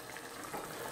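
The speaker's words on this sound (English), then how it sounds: "Let me let a bit of steam out of there." Steam hisses and bubbles from a pot of simmering Indian-style vegetables as the lid is lifted, a close, continuous, broadband rush with no speech.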